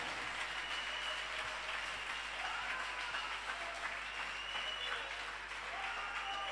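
A church congregation claps and cheers together in sustained, steady applause that fills the space, with a broadband wash of many hands and some crowd voices beneath.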